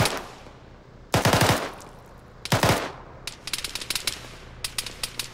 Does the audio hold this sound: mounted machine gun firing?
yes